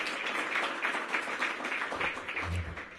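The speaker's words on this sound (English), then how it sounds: "Let's give all those folks a round of applause for their efforts" A round of applause from an outdoor ceremony audience, moderate and somewhat distant, a steady patter of many hands clapping for a few seconds.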